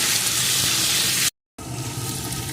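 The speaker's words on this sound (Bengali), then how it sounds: "এখন আলুগুলোকে ভালো করে ভেজে নেব" Potatoes seasoned with salt and turmeric frying in a pan, a steady broadband sizzle broken by a brief silent gap, close and fairly loud with no talk.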